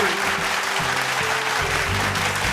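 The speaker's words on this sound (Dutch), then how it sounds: "Dames en heren, een applaus voor Wally McKey." An audience applauds Wally McKey at a Dutch-language show, dense steady clapping at full strength throughout, with a low musical hum or band tone sustained underneath.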